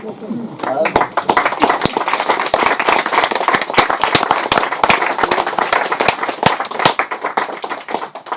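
An audience claps after a book presentation, with distinct individual claps sounding near and irregular, building quickly and holding steady for several seconds.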